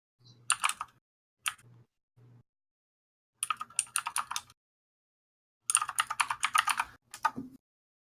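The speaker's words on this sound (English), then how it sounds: "Those are some keystrokes" Bursts of fast typing on a computer keyboard, close and crisp, arriving in several separate flurries with silent gaps between them and a faint low hum during each burst.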